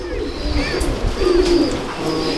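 A pigeon coos close by, a soft low murmuring call repeated a few times in quick succession, with faint background voices.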